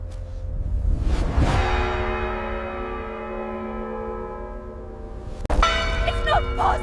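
An ominous bell tolls once, a deep ringing strike that decays slowly over several seconds before a second sharp strike rings out near the end, heard alone.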